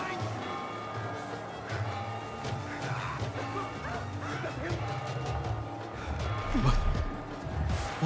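Dog barking and yipping in the video game Assassin's Creed Mirage, several sharp barks and a whimper mixed with crashing effects and shouting voices, fairly close.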